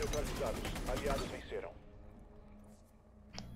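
A quick burst of rapid gunfire in Rainbow Six rattles loudly, then fades into quiet with a faint sharp sound near the end.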